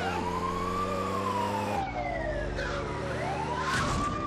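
Ambulance siren in GTA 2 while driving the ambulance, a loud continuous wailing tone sweeping up and down over a droning engine, with a brief pitch drop partway through and no talk.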